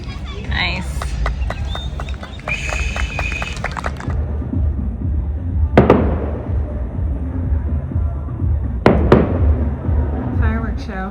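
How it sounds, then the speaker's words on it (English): Fireworks set off in celebration over Lake Chapala, Mexico, a few sharp booms and crackling bursts spread through the night at middle distance, over a steady low background rumble with chatter and other activity near the start. "Fireworks show."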